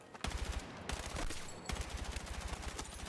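An M433 assault rifle in Battlefield 6 fires in rapid full-auto bursts, a close, evenly paced stream of shots with a brief pause between strings.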